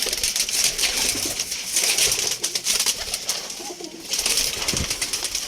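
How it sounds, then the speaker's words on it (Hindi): Pigeons coo and flutter amid a dense, noisy background as birds are released, with soft wingbeats and low throaty calls continuing throughout. "ये 2 कबूतरों को बाहर छोड़ दिया मैंने"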